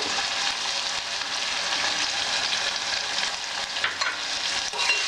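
Turmeric is stirred into mutton frying in oil for a curry, with a bright continuous sizzle close by and occasional scraping of the spoon through the meat, no voices.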